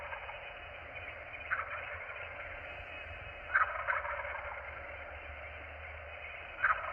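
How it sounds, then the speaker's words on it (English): Recorded wild turkeys gobble through a small museum audio playback device: several short, rattling gobbles spaced seconds apart over a steady, thin, band-limited hiss, with no talk. "There's a little audio device where you can actually hear the turkeys."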